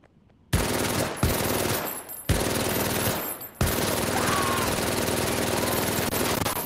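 Bursts of rapid, very fast automatic fire from an MG42 machine gun in the World War II shooter game Medal of Honor: Above and Beyond, loud and close, with a brief break between sustained volleys.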